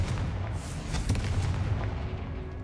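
A fiery Confringo spell blast in Hogwarts Legacy booms with a deep rumbling burst and crackling debris, loud and close, fading into a low lingering roar.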